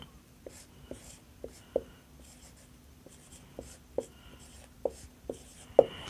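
Chalk or marker strokes on a board come as a series of quick taps and short scratches in an irregular rhythm, heard close and fairly quiet.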